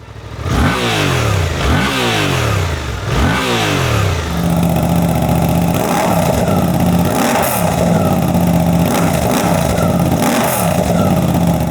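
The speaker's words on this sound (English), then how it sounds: "You get this really burbly, poppy, crackly kind of exhaust out of it" A Suzuki GSX-8R motorcycle with an airbox mod revs hard several times, then settles into a loud, steady burble with rhythmic pops and crackles from the exhaust.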